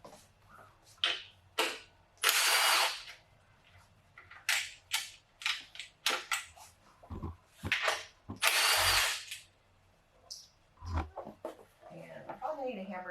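Hand tools working on a K24 engine during an oil pan teardown, with sharp metallic clicks and bursts of ratcheting and rattling in scattered clusters, some close and loud, between pauses and quiet background.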